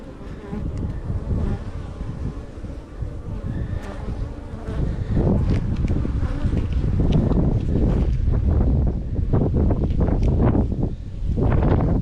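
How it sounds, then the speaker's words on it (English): Gusty wind rushes across the microphone outdoors beside beehives. A steady roar builds and swells louder in the second half, and a faint insect buzz runs underneath. "The wind is beginning to pick up, so it's not cold, but it is a bit blowy."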